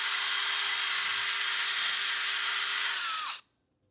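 A small rotary brush whirs steadily against the groove of a rusty pulley on a Mercedes 450SEL, a loud, constant high-pitched grinding hum that holds for about three seconds, then winds down and stops abruptly.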